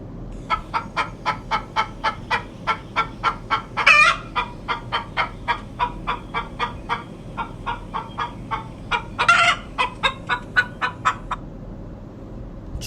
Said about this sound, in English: Chick chirping sound.